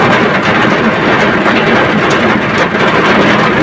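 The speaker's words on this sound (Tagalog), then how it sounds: "Grabe yung ulan." Heavy rain pounds steadily and loudly on a Suzuki New Carry UV cabin during a thunderstorm, a dense, unbroken roar with no pauses.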